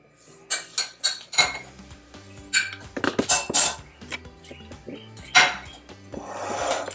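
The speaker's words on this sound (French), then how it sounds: "Je mélange le tout comme ceci." Banana cake batter being mixed in a bowl produces a series of close clinks and scrapes of utensil against the bowl, irregular strokes with a rubbing swirl toward the end, no talking.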